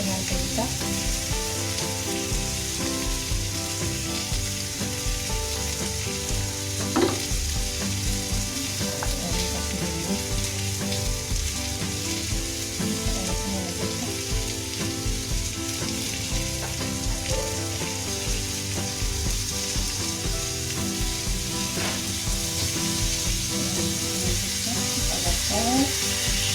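Tofu bacem frying in a pan with oil, a dense steady sizzle and crackle continuing for nearly half a minute, with occasional stirring clinks and faint talk in the background.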